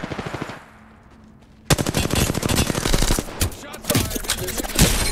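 Rapid automatic fire from a 301 rifle in an online shooter game. A short burst comes first, then after a brief lull a long, loud stream of close shots, with a short pause near the end before firing resumes.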